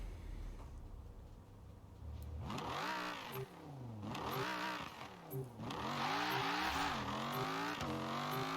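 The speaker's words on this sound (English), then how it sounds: "even with the Forza trashy noise, the V10 still kind of sounds pretty good" A high-revving V10 racing engine in a racing video game repeatedly accelerates and shifts, its pitch climbing and dropping through several gears, loud and close with no talking.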